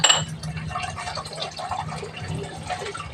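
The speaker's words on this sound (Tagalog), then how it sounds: "Non-stop yung tubig dito, day." Water runs steadily from a tap into a sink while dishes are washed, with faint clinks of glass and plates over a continuous, moderately quiet splashing flow.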